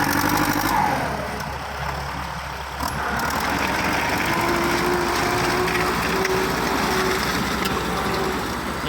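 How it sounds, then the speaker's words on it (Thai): A tractor engine idles steadily with a low, continuous rumble and a faint whine, close by and unchanging throughout. "โอ้รถไถยังฟรีครับพี่น้อง รถไถยังฟรีเลย"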